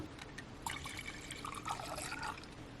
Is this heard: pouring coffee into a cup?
yes